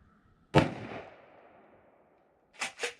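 A Mossberg 500 Compact Cruiser AOW shotgun fires buckshot outdoors. One loud, sharp blast is followed by a long fading echo, then two more quick shots close together near the end.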